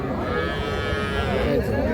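A Sahiwal cow lows at a busy cattle market in Ambari, a drawn-out moo rising over steady crowd murmur and background chatter.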